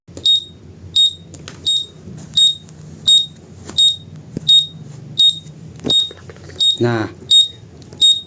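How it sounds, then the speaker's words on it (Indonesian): Close, loud electronic buzzer from a rain sensor triggered by water, sounding in regular short pulses roughly every half second, with a brief spoken word near the end. "Bila sensornya terkena air, dia akan berbunyi seperti ini"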